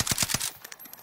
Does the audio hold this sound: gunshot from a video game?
yes